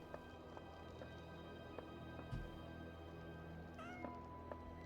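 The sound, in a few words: cat meowing in a video game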